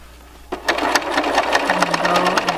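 A sewing machine back-stitching cloth face mask ties starts up after a short pause and runs in a fast, even, loud mechanical rattle close by.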